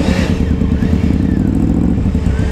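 A hot sport motorcycle engine runs steadily nearby, with a loud, even, throbbing idle and no pauses throughout.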